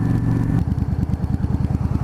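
A motorcycle revs steadily, then its engine note drops into a rapid, pulsing chug, consistent with a clutchless gear shift while riding, close and loud with no talk.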